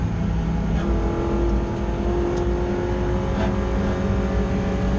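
Ford Puma race car engine pulling hard on track at Oulton Park in a BRSCC Clubsport Trophy race, a loud sustained in-car drone with steady held revs and faint gear or tyre noise.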